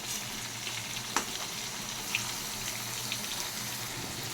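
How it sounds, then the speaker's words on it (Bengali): Medium tomato with half a spoon each of ginger and garlic paste frying in a pan, a steady close sizzle with a few sharp stirring clicks from a utensil scattered through it. "আবারও দিয়ে দিচ্ছি মিডিয়াম সাইজের একটা টমেটো, হাফ চামচ আদা বাটা আর হাফ চামচ রসুন বাটা দিয়ে খুব ভালো করে মিশিয়ে নেবো আমি এটাকে।"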